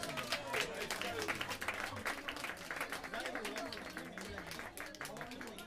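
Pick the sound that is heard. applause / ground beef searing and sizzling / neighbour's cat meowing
applause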